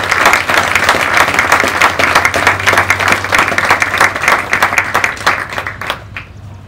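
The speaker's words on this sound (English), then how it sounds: "Let's give them a round of applause." A large audience at a school graduation ceremony breaks into dense, steady applause that holds for several seconds, then thins out and fades.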